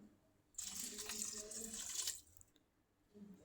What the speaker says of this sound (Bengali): এই দেখেন আমি গরম জল দিচ্ছি